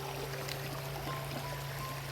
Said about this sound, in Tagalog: kasi sabi sa akin ni Lolo Kiriko, babaybayin lang daw namin itong ilog mga idol